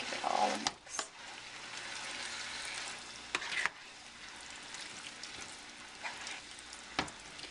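A spoon stirs a shredded beef mixture in a pot over low heat, giving a soft, steady sizzle with faint scraping. A few sharp knocks of the utensil against the pot stand out above it.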